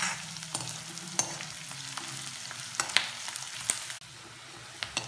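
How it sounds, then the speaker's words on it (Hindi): Onion cooks in a pan as a steady close sizzle, punctuated by several sharp clicks and scrapes of a spoon stirring, moderately loud with no speech. "प्याज को हम लोग 2 मिनट के लिए कुक होने देंगे."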